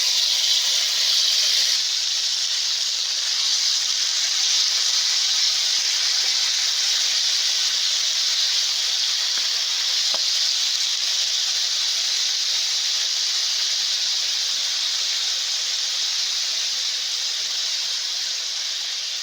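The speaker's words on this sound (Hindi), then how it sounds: "अब हमने एक पैन में ऑयल डाला है। ऑयल डालने के बाद, गर्म होने के बाद हम इसमें अपना मैरिनेट चिकन डालेंगे।" Marinated chicken fries in hot oil in a pan, giving a steady, loud, close sizzling hiss that runs unbroken for the whole stretch with no talking over it.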